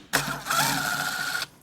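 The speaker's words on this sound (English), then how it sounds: "So we'll go ahead and get the screws pulled out here." A power driver whirs steadily for over a second while backing machine screws out of the grill on an FBT Subline 112SA active 12-inch subwoofer, a close, continuous motor buzz with a brief pause early on.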